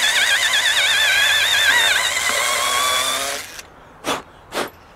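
A Bosch IXO 6th-generation screwdriver with its drilling attachment drills straight through, its high whine wavering in pitch as the bit bites, then stopping, followed by two brief scraping or whooshing sounds close by.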